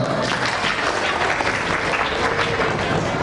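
An audience at a school closing ceremony applauding prize winners, dense steady clapping from many hands, close and even throughout.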